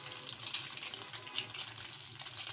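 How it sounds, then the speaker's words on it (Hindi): Aloo shami kababs coated in flour fry in hot ghee, giving a dense, steady sizzling hiss close by that fluctuates slightly without pause. "घी के अंदर आपने ऐसे इसको"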